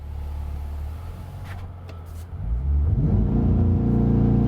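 A 2020 Chevrolet Corvette C8 engine idles low, then surges to full throttle for a launch, with a loud rising rev and rumble building over the last couple of seconds.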